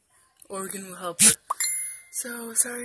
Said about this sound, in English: that was my phone. Someone texted me.